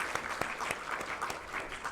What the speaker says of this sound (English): I would like everyone to give the big round of applause to the IT team who have been with us.